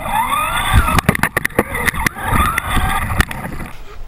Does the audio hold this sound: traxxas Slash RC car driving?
yes